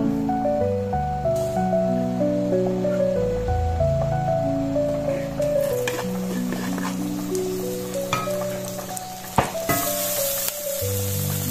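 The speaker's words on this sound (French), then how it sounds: "Donc je fais chauffer mon huile." Oil heating in a pan crackles and sizzles under melodic background music, growing into a louder hiss in the second half, with a sharp clatter near the end.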